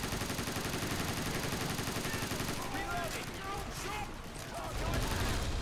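Sustained assault rifle gunfire in the Half-Life Ravenholm level, a dense, continuous rattle of shots that fills the whole stretch with a slight dip in the middle before swelling loud again at the end.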